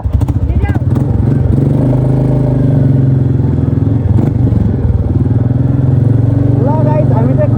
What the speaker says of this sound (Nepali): हामी चाहिँ खड्कुबाट हिँड्यौँ तिनवटा बाइकमा